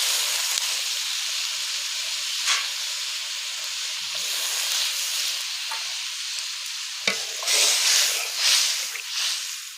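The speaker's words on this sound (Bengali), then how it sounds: "এখন আমি একটু ঝোল দিয়ে দিচ্ছি।" Broth goes into hot masala in a pan for egg cake curry, raising a steady loud sizzle and hiss that swells with bursts of steam and stirring near the end.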